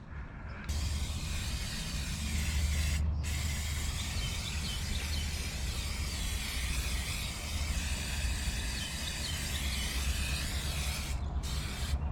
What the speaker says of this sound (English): I'm going to spray paint with some brown spray paint.